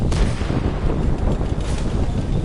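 Tank shell explosions in World of Tanks on PS4: loud, dense, rumbling booms that roll together without a break, heavy in the low end, with no talk.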